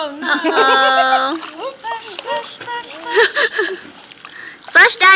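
A young child splashes water in a swimming pool, with brief splatters under a lot of close, lively talk from adults and the child.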